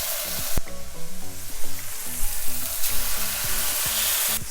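Steak sizzling in olive oil on a hot pan, a steady broadband crackle and hiss running throughout, with background music playing underneath and a sharp knock near the start.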